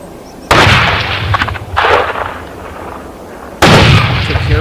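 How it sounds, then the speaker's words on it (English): A hunting gun fires at a wild boar at the edge of a field, with three loud, close blasts spaced apart, each followed by a brief rolling echo. "After a few gunshots, the boar was hit and collapsed on the spot."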